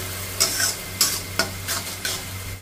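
Masala for a fish curry sizzling in a pan after a few spoonfuls of water are added, with a steady hiss and several close scraping stirs of a spatula.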